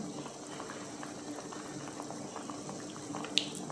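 Kerala-style mackerel (ayala) fish curry bubbling in a pot, a steady close simmering burble with soft pops, fairly quiet and heard on its own.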